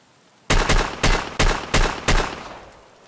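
A Chiappa Rhino .357 revolver in Escape from Tarkov fires five loud double-action shots in quick succession, roughly half a second apart, each a sharp crack with a short decaying tail and no talk.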